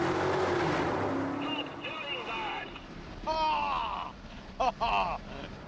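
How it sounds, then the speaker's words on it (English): A car engine rises and falls with strained, squealing revving in uneven bursts, loud and close, with a voice talking over it, near a tunnel. "That is a genuinely horrible noise that Hammond's car's making"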